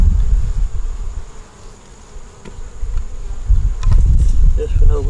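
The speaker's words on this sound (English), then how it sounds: "We have a few bees in there." Honey bees buzz steadily around a hive, a dense droning hum that swells and fades as insects fly close, with a few louder passes near the end.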